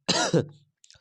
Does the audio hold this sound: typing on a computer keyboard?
no